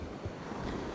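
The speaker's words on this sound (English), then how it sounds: "Look at the waves." Ocean waves wash onto a beach in a steady, loud roar, with wind buffeting the microphone throughout.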